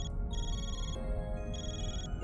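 A phone rings in the video game Trails Through Daybreak, a steady electronic ringtone with repeating tonal phrases over a constant low background hum, with no talking.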